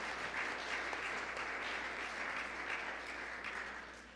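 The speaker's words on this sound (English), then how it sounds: "We can clap for that." A congregation at a Sunday gathering applauds together in a dense, sustained round of clapping that tapers slightly toward the end.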